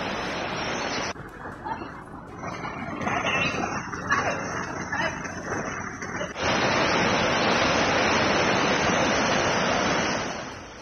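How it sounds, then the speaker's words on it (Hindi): Severe flood water pours along a road in Herefordshire, Britain, as a steady, broad rushing roar that grows louder and denser partway through, then drops away at the end. "हियर फोर्टशायर में भीषण बाढ़, सड़क पर बहती हुई नजर आ रही नदी"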